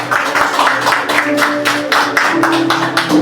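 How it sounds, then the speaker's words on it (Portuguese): A church audience claps hard in a fast, regular rhythm, crisp repeated hand strikes over sustained organ-like tones, loud and close throughout. "palmas bem forte para Jesus"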